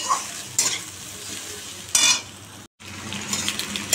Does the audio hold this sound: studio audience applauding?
no